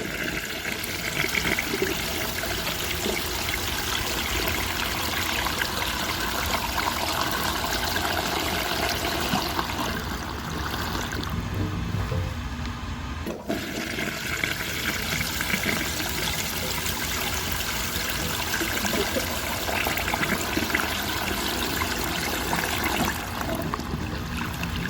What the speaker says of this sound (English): Master Flush asks if I can flush 10 grocery bags.